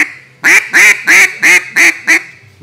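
An RNT Original duck call blown by mouth imitates a duck with six loud, evenly spaced raspy quacks, close and alone, in quick succession.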